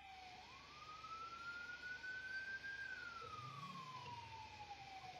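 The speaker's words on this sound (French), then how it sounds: "vous entendez, il y a les sirènes françaises." A French police siren in a roleplay server game wails steadily, its pitch rising slowly, holding, then falling again, heard fairly faintly over a constant low engine rumble with no talking.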